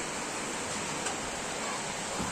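Heavy rain pours steadily during typhoon flooding, a dense, even hiss filling the whole clip with no pauses, close and fairly loud.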